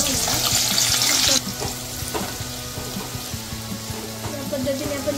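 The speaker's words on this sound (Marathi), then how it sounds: "हे कांदा तळण्यासाठी आपलं तेल सुद्धा गरम झालेलं आहे। आता आपण कांदा घालूया।" Chopped onion frying in hot oil for chicken dum biryani: a loud hiss at first, then a softer, steady sizzle with regular stirring clicks close by.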